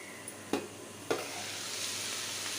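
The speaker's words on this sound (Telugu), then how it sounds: "క్యాబేజీ ఫ్రై అయితే చేస్తున్నాను" Cabbage fries in a pan as a soft, steady sizzle, broken by two sharp stirring knocks early on, with no voices present.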